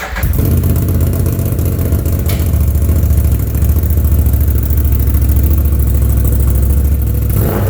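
Intimidator Enforcer 800 high-lift UTV engine idling loudly through a new, louder exhaust, a steady rumbling drone held close and alone for several seconds.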